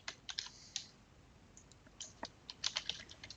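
Faint, scattered keyboard typing while a Photoshop template is edited on a computer, irregular light clicks in short bursts with gaps between them, quiet and close, with no voices.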